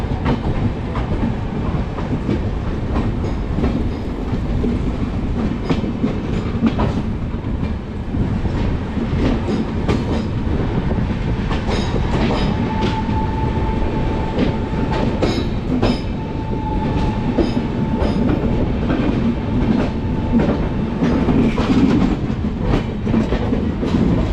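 Shatabdi Express running at speed while an oncoming train passes, a steady loud rumble of wheels on rails with clickety-clack beats and a faint squealing tone midway, continuous throughout with no talk.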